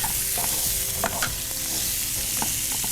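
A spoon scrapes and stirs finely chopped onion and tomato frying in a hot pan, with a steady sizzle and a few soft clicks of the utensil against the metal.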